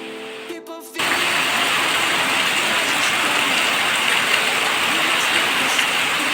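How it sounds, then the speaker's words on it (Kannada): Heavy rain pours down in a loud, dense, steady roar that kicks in abruptly after a brief moment and keeps up without letting off. "ಇಲ್ಲಿ ಯಾವ ರೀತಿ ಮಳೆ ಬರ್ತಾ ಇದೆ ಅಂತ ನೋಡಿ, ತುಂಬ ಜೋರಾಗಿ ಮಳೆ ಸುರಿತಾ ಉಂಟು"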